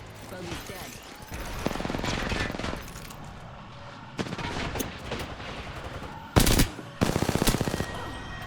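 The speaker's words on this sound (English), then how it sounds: "I'm hip firing more than I normally do because I'm taking fights that require hip firing" Rapid automatic hip-fire gunfire from Apex Legends, loud and close, coming in several sustained bursts with short gaps, ending in a sharp blast and a final dense burst over game sound effects.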